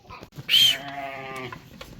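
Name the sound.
newborn lamb bleating on a farm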